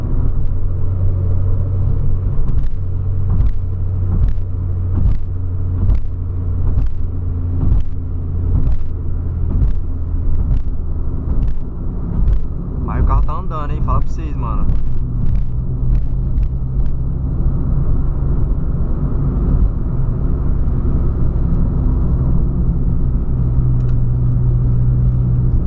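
A Peugeot 208 accelerates hard on an open road, its engine note climbing through a run of gear changes at close range, loud and steady, with a brief dip and recovery midway and no talk over it.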